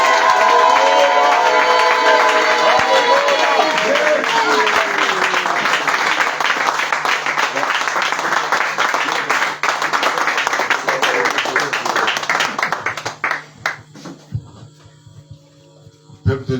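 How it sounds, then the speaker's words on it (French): A church congregation applauds and cheers for Jesus in a loud, sustained wave of clapping and voices that thins out and fades near the end. "acclame le Seigneur Jésus."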